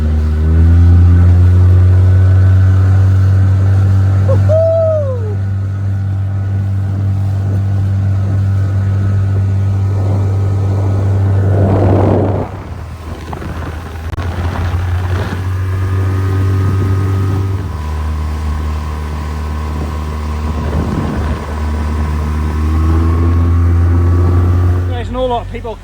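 A Honwave T32 inflatable boat driven at full speed by its outboard motor gives a loud, steady engine drone that runs the whole time, briefly dipping and changing pitch midway as if throttled back, then surging again.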